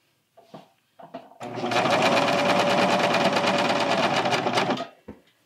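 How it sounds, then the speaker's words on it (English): A serger overlock machine sews a T-shirt neckband onto knit fabric in one fast, steady mechanical buzz for about three seconds, preceded and followed by brief quiet handling noises. "with a serger, you're gonna kind of have to scoop over to the seam line"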